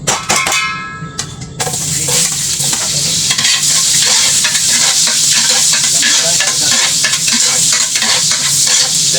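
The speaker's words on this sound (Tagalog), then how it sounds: "Gigisahin po natin." Garlic sautéing in hot oil in a pan for kare-kare, a loud close sizzle with a brief quiet patch at the start, then repeated scraping and clanking of a spatula stirring through the frying, no talk.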